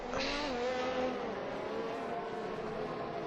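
F1 cars on a formation lap in the F1 2021 racing game at Canada, engines droning steadily with a brief higher whine at the start, faint and distant.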